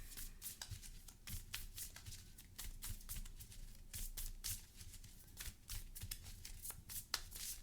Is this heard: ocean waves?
no